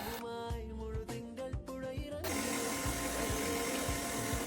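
Electric hand mixer beating red velvet cupcake batter in a bowl, a steady close whir with brief dips in speed early on, then running evenly and loud with no talk.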